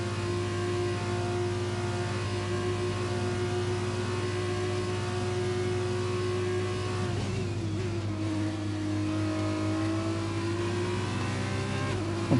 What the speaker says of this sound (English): Let's listen to Keegs' car again when it goes down into 4th and 5th.